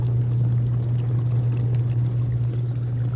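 A dishwasher drains water during a repair test, giving a loud, steady pumping hum with continuous rushing, pouring water for the whole stretch, close by and with no talking.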